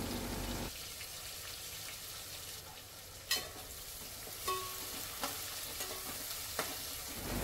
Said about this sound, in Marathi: कांदा टोमॅटो पण लगेच ऍड करून घेते आणि तेलावर छान असं परतून घेणार आहे